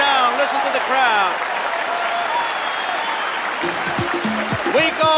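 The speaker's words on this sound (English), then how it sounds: "Listen to the crowd." A crowd applauds and cheers at a 1979 baseball playoff game between the Pirates and Reds in a ballpark, a loud continuous roar, with a broadcaster talking over it at the start and end.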